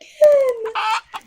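A singer's voice imitates a chicken clucking in a children's farm-animal song, giving a sliding, pitched call and then a short burst and a faint final cluck, loud and close.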